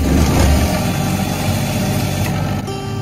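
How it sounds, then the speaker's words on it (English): A Northern Lights generator engine runs loud and close, its low rumble uneven and labouring as though straining, with no voices. "You might hear the engine struggle like that a little bit."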